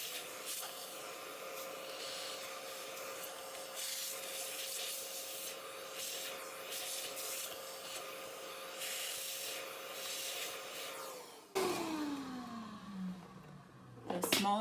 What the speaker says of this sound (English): we're going to vacuum all this out with the crevice tool of your vacuum